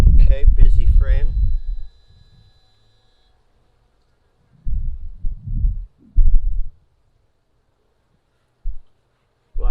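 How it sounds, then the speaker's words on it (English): Honeybees buzz on a busy hive frame during a split, a soft drone heard in short patches between stretches of close talking, with brief bumps and handling noise. "Lots of bees on there."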